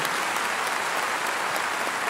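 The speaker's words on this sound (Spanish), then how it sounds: "Dele un aplauso al Señor." Congregation in a church applauding in praise, a dense, steady wash of clapping filling the whole moment without a break.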